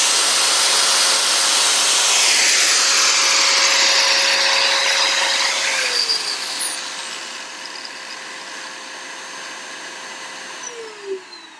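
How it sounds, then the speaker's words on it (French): An angle grinder whines loudly over the steady roar of a vacuum cleaner, both powered by a Bluetti AC200P solar power station, then winds down and fades, leaving the vacuum humming more quietly. "faire le test de la disqueuse plus de l'aspirateur"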